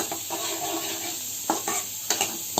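Mustard seeds and cumin frying in hot oil, a close, soft crackling sizzle with a few sharper clinks near the end.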